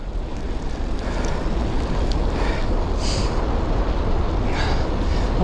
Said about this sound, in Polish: Piękny dzień, ale ten wiatr bardzo nieprzyjemny się zrobił